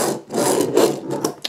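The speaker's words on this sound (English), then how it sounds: "he does actually have tiny little wheels to help him roll" Die-cast Machine Robo Rod Drill toy rolling on its tiny wheels across a surface, a close, scraping rumble in a few rough strokes with short pauses, with no talk over it.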